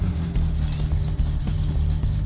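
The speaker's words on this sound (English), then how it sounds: "It's missing a muffler right now, so it's very, very loud." A car engine running with its muffler missing gives a loud, raw, deep rumble with uneven pulsing throb, heard close up and continuous.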